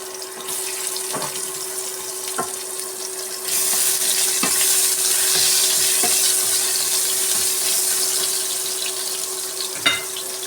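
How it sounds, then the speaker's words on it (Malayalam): Chopped coconut pieces frying in hot oil, a continuous close sizzle that swells louder midway, with occasional clinks of a utensil against the pan, no talking. "എണ്ണ ഒഴിച്ചിട്ടുണ്ട്. തേങ്ങ കുത്തിടുന്നു."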